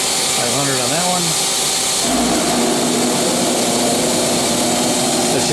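An air compressor in a machine shop with a Mazak CNC lathe runs with a loud, constant roar and hum, and a voice talks over it near the start.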